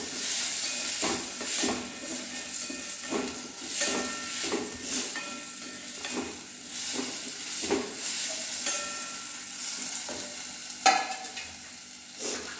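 Chopped spring onion greens cook in a pan with a soft continuous sizzle, punctuated by rhythmic scraping strokes of a spoon stirring through them.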